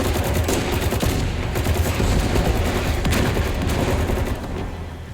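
Dense, sustained automatic gunfire in the shooter The Division 2, a loud continuous barrage of overlapping shots with booming low rumble, easing slightly toward the end.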